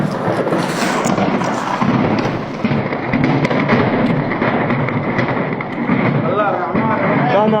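Explosions and gunfire during an armed clash in Sudan, loud blasts and crackling reports rolling one after another amid shouting voices.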